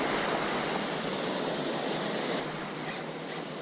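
Steady broadband surf roar from ocean waves breaking on a fishing beach, continuous and fairly loud, with a slight easing toward the end and no voices.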